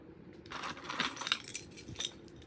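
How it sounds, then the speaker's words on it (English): Keys jingling and clinking as a bunch is picked up at home before an unboxing, a quiet metallic rattle of light repeated taps with no talking. "Let me grab my keys here to unbox this for you guys."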